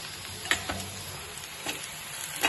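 Chopped onions fry in a pan for gongura shrimp curry, a steady close sizzle with occasional stirring scrapes and clicks and no voice.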